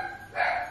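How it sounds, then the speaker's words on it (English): A dog barks once at moderate distance, a short burst rising midway through an otherwise quiet indoor moment with no talk. "excuse Boba's barking."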